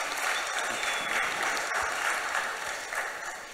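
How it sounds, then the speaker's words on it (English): An audience at a crypto and climate panel applauds the panelists, a dense, even wash of clapping held at steady volume throughout. "Let's hear a big round of applause for our panelists today."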